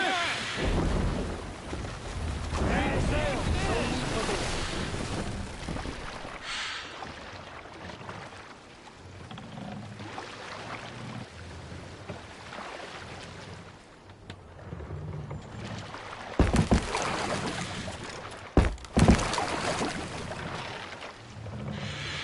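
A Viking longship sails out across open water in Assassin's Creed Valhalla, with broad rushing wind and water noise, heavy low swells and a few sharp gusts near the end.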